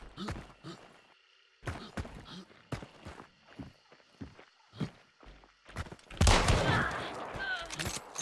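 Gunfire in the game Hunt: Showdown, a series of sharp separate shots spread through the fight with footstep-like thuds between them, closing on a loud burst of sustained noise.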